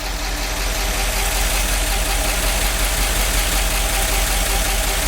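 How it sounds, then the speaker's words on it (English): A 1969 C50 truck with a big block engine, revived after decades parked and out of time, runs loud and close in a steady rough idle with faint irregular knocks. "Not sure what that backfiring is."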